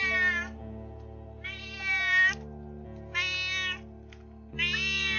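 A cat meowing in the video game Roadwarden: three drawn-out, tonal meows spaced a second or so apart over a soft, steady music bed, close and clear with no voices.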